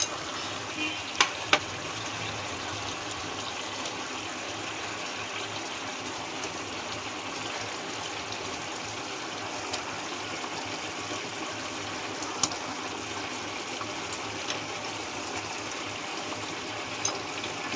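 A paneer curry simmers in a pan at home, giving a continuous soft bubbling sizzle with faint pops and occasional light clicks, steady and close throughout.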